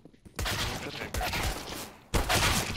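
Rapid Counter-Strike gunfire in a competitive match, with dense bursts of shots filling most of the moment, a brief break midway, then another loud volley; no talking.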